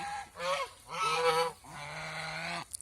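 Domestic geese at a goose farm give loud, nearby nasal honks, three drawn-out calls in a row with brief gaps, the last one longest and slightly lower.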